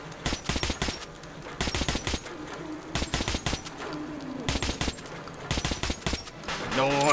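Gunfire in the video game Metro 2033 Redux comes as loud, close bursts of rapid repeated shots, broken by short pauses and repeated several times, with a rising rumble near the end.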